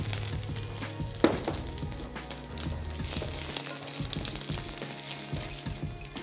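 Dried red chillies and whole cumin sizzle and crackle in hot oil for a tempering, a steady close frying hiss with small pops and a sharp clink near the start, no voices.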